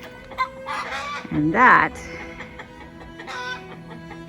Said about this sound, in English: And the birds are going crazy because they don't like him there.